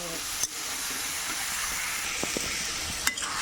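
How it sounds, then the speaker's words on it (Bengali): Washed vegetables being stirred into a prawn curry with potato and eggplant in a pan, a steady close sizzle and hiss with a few sharp scrapes of the spoon against the pan. "এই যে ধুয়ে রাখা সবজি দিয়ে দিচ্ছি। সুন্দর করে নেড়ে চেড়ে নিচ্ছি।"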